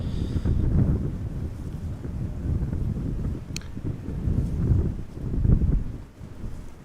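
A strong crosswind at Amsterdam Schiphol Airport buffets the microphone in low, uneven gusts that rise and fall throughout, with no voices.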